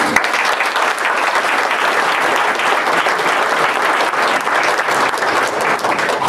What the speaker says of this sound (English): I'd like to hear a round of applause for Rodney.